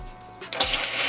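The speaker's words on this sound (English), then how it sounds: "I'm going to deglaze it with some water." Water hitting hot light-brown caramel in a pan, a short burst of loud hissing sizzle that starts abruptly after a quiet moment and holds steady.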